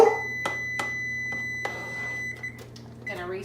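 Kitchen timer being set while meatballs simmer in sauce on the stove, a short beep at the start followed by soft button clicks and taps, close and fairly quiet.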